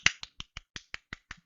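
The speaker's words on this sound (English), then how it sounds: "I clap for a good video." Eight quick, crisp hand claps in an even rhythm, close and fairly light, with nothing else around them.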